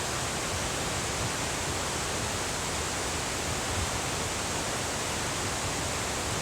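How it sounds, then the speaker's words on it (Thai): The Dalälven waterfall at Laxön in Sweden roars in a dense, unbroken wash of rushing water, steady and close throughout, with no speech. "เบื้องหลังนะคะก็จะเป็นน้ำตกนะคะ"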